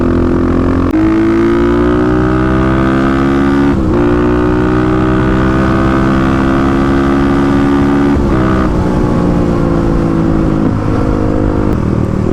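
A 35 hp Kawasaki KLX351 dirt bike with a bored head, ridden hard out of corners, its engine droning loud and close, pitch climbing steadily with brief dips at gear shifts.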